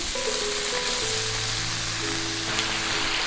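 Meat frying and sizzling in a hot pan for batayaki, a steady dense crackle throughout with low tonal hum beneath and no talking.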